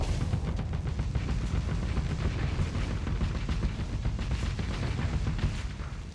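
Hypervelocity driver weapons fire in the space combat game Starsector as a dense, continuous barrage of rapid booming shots. The loud, steady rumble runs throughout with no speech.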